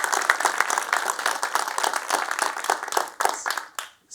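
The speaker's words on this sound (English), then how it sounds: "Huge round of applause, as before." Audience applause at a technology talk on security, dense close clapping from a crowd that holds steady, then tapers and stops near the end.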